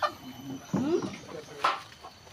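Chickens cluck in short rising calls at a rural home, close and moderately loud, with people talking faintly in the background.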